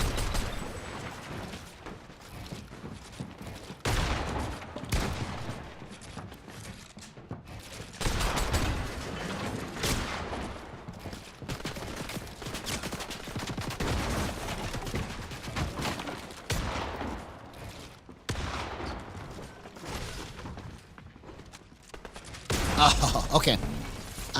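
Gunfire in a shooter video game, with repeated bursts of shots over about twenty-five seconds, loud and close, alternating with short quieter gaps and mixed with game effects.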